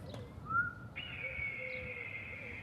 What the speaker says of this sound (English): Artificial falcon against all birds